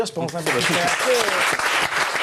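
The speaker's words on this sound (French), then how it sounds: "On peut encore l'applaudir" Studio audience applauding a Belgian beatbox champion on a television set, steady clapping running throughout beneath someone speaking briefly over it.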